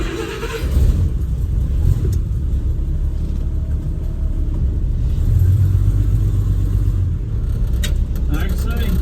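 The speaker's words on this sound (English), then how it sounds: "Like I say, idle's fine while it's cold. Put it in gear. It's idling a little rougher than it normally does." Car engine idling a little rough while cold, a steady low rumble close by with slight unevenness, while someone talks over it.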